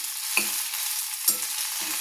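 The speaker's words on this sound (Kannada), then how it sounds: "ಇವು ಬೆಂಡೆಕಾಯಿ ಸ್ವಲ್ಪ ಚೆನ್ನಾಗಿ ಫ್ರೈ ಮಾಡ್ಕೋಬೇಕು" Okra fries in a pan for chutney, giving a steady bright sizzle broken by three scraping stirs, close up with no talking.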